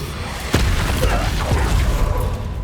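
An Expulso explosion spell cast in Hogwarts Legacy, a sudden deep boom with a sharp onset followed by a rumbling tail and a smaller second burst, loud and close.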